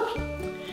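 A voice imitates a dog barking during a baby story time: one short, close, voiced woof-like sound lasting under a second, with no real dog present.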